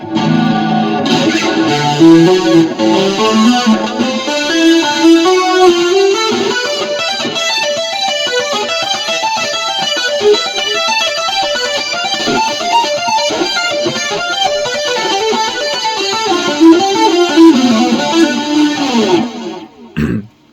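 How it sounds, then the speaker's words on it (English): Distorted electric guitar playing a slow pentatonic tapping run in an 80s solo style, a steady stream of sustained notes with chorus and reverb effects, alone and clear. "So I'm gonna play this pentatonic tapping run slowly"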